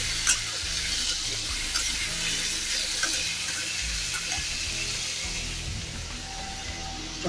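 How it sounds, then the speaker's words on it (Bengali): Potatoes and tomatoes sizzle steadily in a hot pan for a cauliflower fish curry, with occasional stirring scrapes and ticks over a continuous frying hiss, close and fairly loud. "এরপর আলু টমেটোটা ভেজে নেব"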